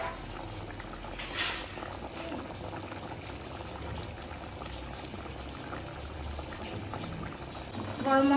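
Jackfruit and prawn curry simmering over a low flame in a pan at home, bubbling steadily and softly up close, with a faint clink and a louder stir at the end.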